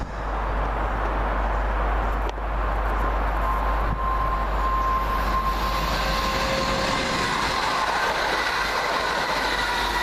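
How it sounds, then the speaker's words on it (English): A train bound from Birmingham New Street to London Euston passes Cheddington station: a loud, constant roar and rumble of wheels on rails with a faint whining tone running through it. "Next up, 2 Yankee 68 from Birmingham New Street to London Euston."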